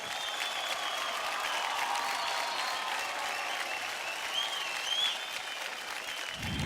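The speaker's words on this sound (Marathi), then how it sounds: "जोरदार टाळ्या होऊन जाऊ द्या" Studio audience at a TV dance competition show breaks into sustained applause, a dense, even clapping that stays steady for several seconds, then cuts off abruptly at the end.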